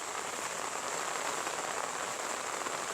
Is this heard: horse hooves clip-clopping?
no